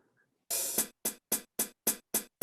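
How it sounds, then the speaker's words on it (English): A hi-hat cymbal sample in GarageBand rings out once with a longer open wash, then five short, tight closed hits follow in a steady rhythm. "It's called a hi-hat. It's the one that opens and closes with a foot pedal."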